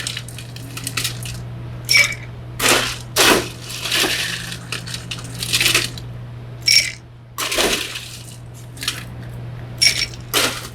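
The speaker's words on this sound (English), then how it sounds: "then fill with enough ice, not all the way to the top, especially with a big mixing glass" Ice cubes clatter and crunch into a big mixing glass while a Negroni is built, a run of sharp, close, irregular clinks and rattles in separate bursts over a steady low hum.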